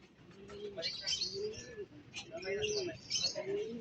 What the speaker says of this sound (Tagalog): Ayan, daming kalapati oh.